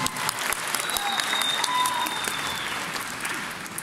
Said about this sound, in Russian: я люблю аплодисменты.